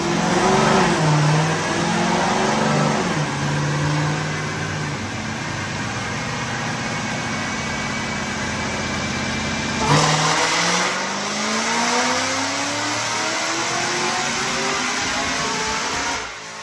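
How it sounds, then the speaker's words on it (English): A Cadillac CTS-V engine runs at wide open throttle on a dyno, a loud, sustained roar with rising pitch sweeps, a brief dip and a second climb, with no talking over it. "Because when this motor is going wide open throttle,"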